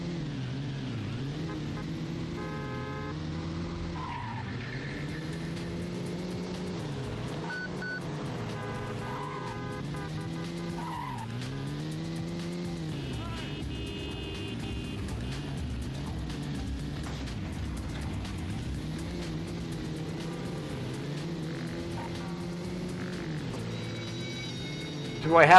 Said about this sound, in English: There's the taxi. All right, that's what we got to do now. Got to drive it up here.